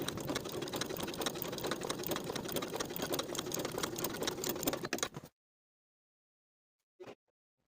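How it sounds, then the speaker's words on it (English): Sewing machine stitching darts on a lined coat, a close, steady rapid run of needle strokes for about five seconds that stops abruptly, followed by silence and one brief clunk. "Now I'll sew my darts from the outside edge to the point"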